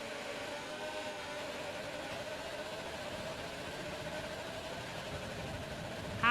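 Racing video game car with an automatic gearbox, heard as a steady, buzzing engine drone with whining gear harmonics that holds at an even level throughout, with no talking.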